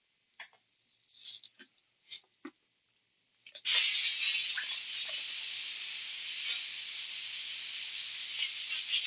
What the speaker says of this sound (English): Just cleaning my airbrush out a little bit